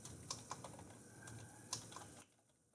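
Typing on a computer keyboard, a quick run of light clicky keystrokes with a few sharper taps, close and clear in a quiet room before it stops.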